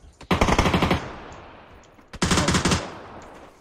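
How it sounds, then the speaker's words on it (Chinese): Two bursts of rapid automatic gunfire in a first-person shooter game, each about a second long, loud and close, separated by a fading echo. "你听到枪声了？"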